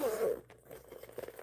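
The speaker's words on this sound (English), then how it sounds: "Look, all the zippers go to one side." A zipper on a sewn bag, one short rasping pull, loud and close, then fading into soft rustling.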